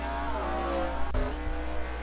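A race car at a Bristol track qualifier drones past with a steady, fairly faint engine whine, a sharp thump cutting in midway before the motor carries on at an even pitch.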